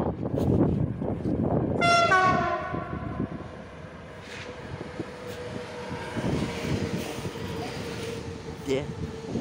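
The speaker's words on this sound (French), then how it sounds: "Allez, on fait klaxon." A French RER D commuter train sounds its horn while passing: a loud rumble of wheels, then a long horn blast that fades away, followed by ongoing track noise, with voices nearby.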